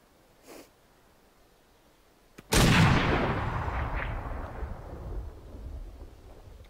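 A single loud pistol shot from a period duel booms suddenly and rolls away in a long, fading reverberant tail after a stretch of near silence.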